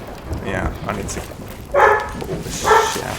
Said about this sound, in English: you can hear my dog barking